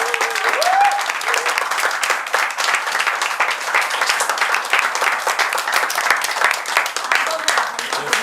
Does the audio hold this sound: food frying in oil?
no